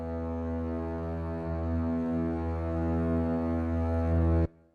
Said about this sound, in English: It starts off with the strings